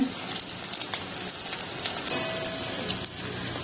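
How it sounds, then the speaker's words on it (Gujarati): Edible gum frying in hot ghee for gund pak sizzles with a dense, steady crackle close by, dotted with frequent small pops throughout. "ખાલી આટલું ગુંજ છે સરસ રીતે તળાઈ ગયો છે ઘીમાં"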